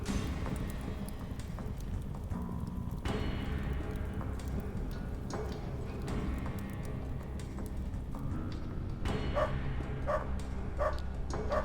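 Dogs bark in the post-apocalyptic RPG UnderRail, several sharp barks and yips ringing out over a constant dense rumbling ambience, with a cluster of quick barks toward the end.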